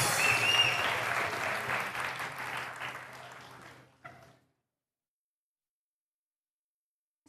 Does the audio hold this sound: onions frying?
no